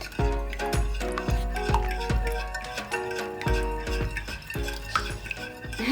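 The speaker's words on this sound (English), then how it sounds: "And then we're gonna stir in until combined." A spoon stirring waffle batter made with vanilla extract and melted butter, tapping against the bowl in a steady rhythm of about two clinks per second, close and fairly quiet.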